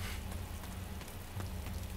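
Rainfall in the survival video game DayZ, a faint, even hiss of steady rain with scattered drop ticks, continuous and without speech.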